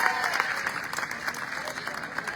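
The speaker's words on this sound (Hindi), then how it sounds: "आपकी तालियां रुक नहीं रही हैं, बज रही हैं, बज रही हैं" Sustained applause from a crowd at an outdoor political rally in Jalandhar, steady and dense clapping throughout with faint voices mixed in.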